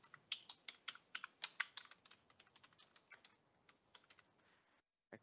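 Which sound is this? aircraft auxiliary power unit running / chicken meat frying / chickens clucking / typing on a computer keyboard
typing on a computer keyboard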